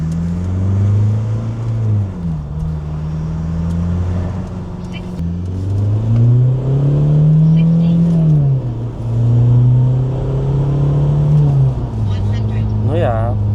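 A tuned TDI diesel car engine with a turbocharger revs up and down in long, smooth sweeps, loud and close, while someone talks over it.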